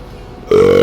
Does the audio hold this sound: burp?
yes